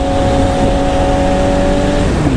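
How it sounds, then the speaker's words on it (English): A loud, steady motorcycle exhaust drones continuously at close range, with a deep rumbling tone that holds throughout. "My exhaust is so much louder."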